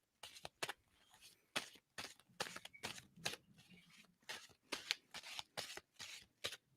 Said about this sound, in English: And I'm going to stop shuffling on it.